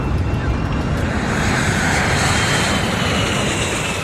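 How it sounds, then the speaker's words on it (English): A large fixed-wing passenger airliner roars through its takeoff run and climbs away, a loud, sustained engine rumble with broad rushing noise throughout. "And immediately thereafter, they're airborne."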